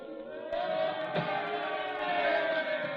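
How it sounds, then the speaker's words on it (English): A dense crowd roars and shouts continuously in the distance, a steady mass of raised voices with a brief sharp knock partway through, heard without any clear single speaker. "The crowd, they're yelling something."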